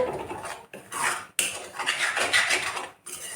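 Duck egg stirred in a pan with a utensil over low gas for a greens dish, close rhythmic scraping and clinking of metal on the pan with short pauses between strokes.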